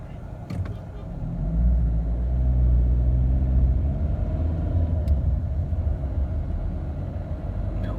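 A Fiat Linea with a Dualogic gearbox pulls away from traffic lights under moderate throttle, its engine swelling into a steady, close, low rumble that holds through the run with no voices over it.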